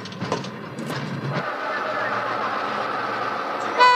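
A train running along the rails with a steady rumbling roar and faint clicking, while a person speaks briefly at the start.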